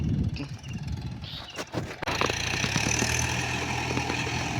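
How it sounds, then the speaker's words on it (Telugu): A tractor ploughing a field on a seven-acre farm plot, its engine droning steadily and fairly close, with a few clunks and a rougher stretch before the running settles into a continuous rumble. "దున్నుతున్నాడు ట్రాక్టర్."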